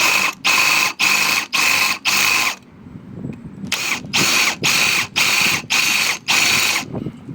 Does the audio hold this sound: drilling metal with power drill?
yes